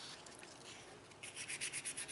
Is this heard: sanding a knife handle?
yes